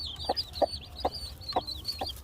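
A fighting game rooster of Thai fighting-cock stock clucks in five short, evenly spaced bursts, close and moderately loud over a low background hum.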